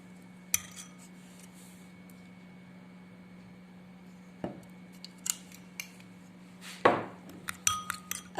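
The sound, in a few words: mixing a remedy with olive oil in a bowl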